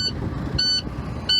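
A truck engine with air brakes cranks and starts into a steady low rumble, while a high warning buzzer beeps three times at regular intervals.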